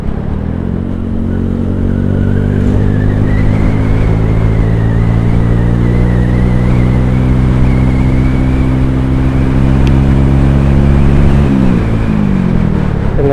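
A bored-up Honda Supra X 125 motorcycle, enlarged to 147cc with a stock carburetor, drones loudly and steadily at speed, its engine note holding nearly constant before shifting slightly near the end.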